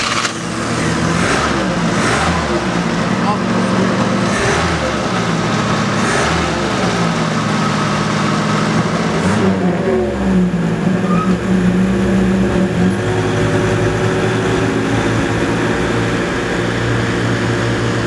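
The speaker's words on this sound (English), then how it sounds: "That little 4-cylinder motor's perfect in this thing. Like I said, it even sounds like it's got a little flat head in it." A 1928 Willys Whippet's small four-cylinder engine runs steadily and fairly loud throughout, a continuous low drone with shifting tones as it moves, and no talk over it.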